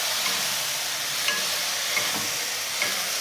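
A paste of ground mustard, poppy and melon seeds with a little water is stirred into beans frying in a pan, giving a steady close sizzle with faint scraping stir strokes.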